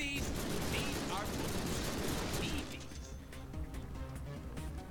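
A handgun fires again and again in the Deadpool video game, the trigger tapped quickly. A dense run of close shots blurs together with explosive game noise, then thins out, with a voice talking alongside.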